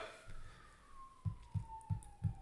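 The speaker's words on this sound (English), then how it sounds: "There's sirens in the background." A distant siren wails faintly in the background, its tone slowly falling, while a few dull low thumps sound nearby.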